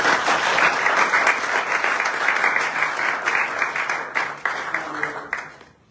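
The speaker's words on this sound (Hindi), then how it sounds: "आइए उसके जलाल के लिए एक दफा जोर से ताली बजाएं" A church congregation at a Sunday service claps loudly together in praise, a dense and continuous roar of hands that trails off into scattered claps near the end.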